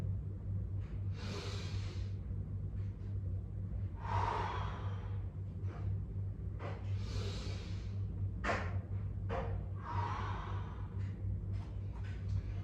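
Slow, audible breaths drawn in and pushed out during a yoga and pilates workout, heard as about four long airy inhale-exhale swells with short pauses between, close over a low steady hum.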